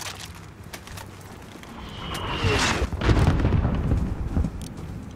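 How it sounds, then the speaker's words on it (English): A mortar explosion in Call of Duty: Modern Warfare (2019) builds from a rising whoosh into a heavy, rumbling blast midway through, with debris and noisy battlefield ambience lingering after. "There's still a mortar out there."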